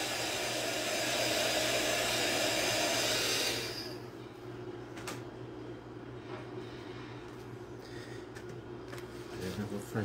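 Hair dryer blowing on a handmade craft box decorated with a biscuit-style label and EVA foam lace, a steady loud whir that cuts off after a few seconds, leaving quieter room noise and the rustle of handling.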